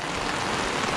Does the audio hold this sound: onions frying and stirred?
no